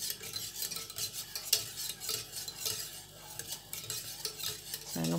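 Butter melting into milk in a pot while a utensil stirs steadily, giving soft continuous scraping and clinking against the metal with a faint simmer underneath, close and without speech.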